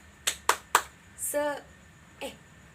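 Three sharp claps in a quick rhythm, then a brief chanted shout and one more clap, crisp and close, in a primary school classroom.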